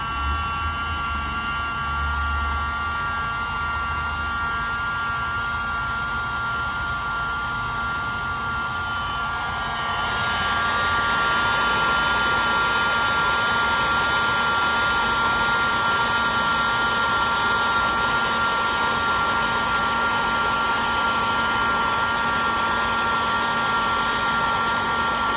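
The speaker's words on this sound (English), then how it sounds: "we're gonna go ahead and shoot this with the heat gun, and you'll kind of see what that looks like once it melts" Heat gun shrinking heat-shrink tubing over wires, heard as a steady whirring fan hiss that grows louder and fuller partway through as it switches to a higher setting, then holds an even close blast with no talking.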